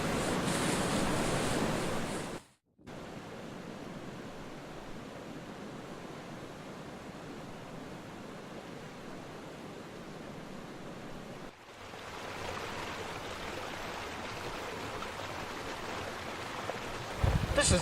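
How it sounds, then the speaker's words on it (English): Rushing water flows outdoors in the wild as a broad, steady roar that holds for long stretches, interrupted by a couple of abrupt cuts, with no speech over it. "I think I can hear a river."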